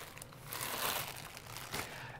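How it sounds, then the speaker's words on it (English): A plastic bag inside a dust extractor kit being handled, giving soft, continuous crinkling and rustling up close, swelling in the middle and tapering off, with no talking. "And also inside there is a plastic bag."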